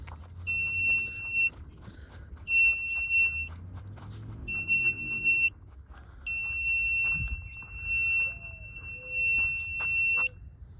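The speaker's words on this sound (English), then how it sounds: "we are going to have to put a buzzer on here that might be a little bit annoying" Repeated electronic buzzer beeps from an ESP32 board during a wireless range test outdoors, four steady tones of a second or two each with the last one held longer, loud and clear over faint background noise.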